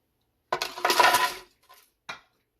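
Ice cubes dumped into a blender for a healthy shamrock shake clatter and clink in one close, loud burst that lasts about a second, followed by two short rattles as the last pieces settle.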